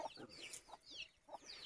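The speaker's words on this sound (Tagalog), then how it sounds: "Daghan ng manok daw." Short bursts of chicken clucking, several calls in quick succession with a brief pause, fairly close and clear.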